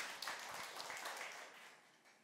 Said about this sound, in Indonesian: Yang setuju kasih tepuk tangan buat Allah kita